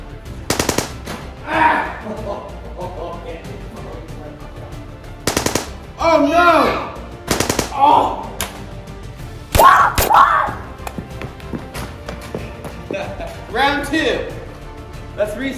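Nerf toy blasters fire in rapid bursts during a farm Nerf war outdoors. Loud clattering volleys repeat at irregular intervals between excited shouting voices.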